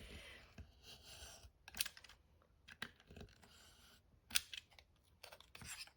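Scissors cutting through two stacked layers of folded craft paper for a Christmas place card, several faint, close snips and clicks mixed with light rustling of paper.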